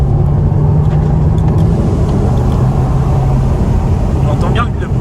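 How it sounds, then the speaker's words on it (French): An Audi TT MK2 2.0 TFSI accelerates with a loud, continuous engine and road drone while people talk over it. "On entend bien le bruit du turbo quand même quand tu accélères"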